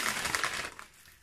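Scissors snip into a plastic hair dye sachet, a close, crisp cutting and crinkling sound that fades out after about a second.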